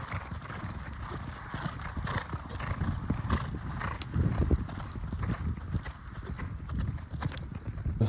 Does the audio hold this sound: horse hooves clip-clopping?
yes